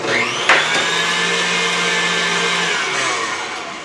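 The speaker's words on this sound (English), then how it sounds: "Gradually beat in the granulated sugar on high for about 2 tablespoons at a time." An electric mixer whipping egg whites with granulated sugar on high speed for angel food cake, a loud steady whirring drone with a brief clatter near the start.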